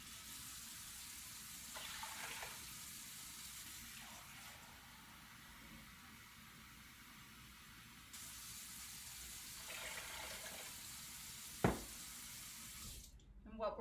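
Six cups of cold water run into a pot of dry rinsed black beans, a steady faint gush and splash that shifts in tone partway through, ending with a sharp clunk and brief rustle.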